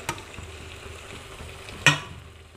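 Fried potato and cauliflower tipped into a masala gravy in a kadhai, then stirred: a soft continuous sizzle with faint scraping, a light knock near the start and a sharper clatter of the ingredients landing just before two seconds.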